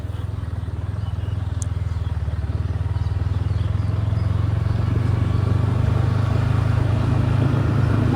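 A motorcycle engine idles and runs at low speed as a first-time rider pulls away slowly in first and second gear, a steady close drone that grows slightly louder, with no talk over it.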